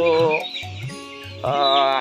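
Layer pullet chickens about 35 days old cluck close by in a poultry batch, a few drawn-out, throaty calls in quick succession, heard alone with no talk.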